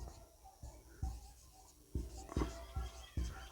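Chalk or marker writing on a board during a physics lesson on light, heard as a series of short scratchy strokes in an irregular rhythm, close and moderately quiet, with faint speech-like sounds around it.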